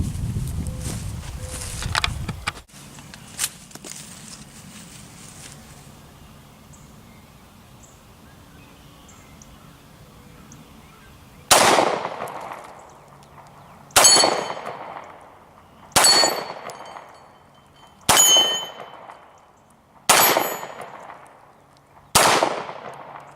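Ruger P89 pistol shots, six sharp reports spaced about two seconds apart in the second half, each ringing off with a short echoing decay; quieter handling and ambient noise come before the firing starts.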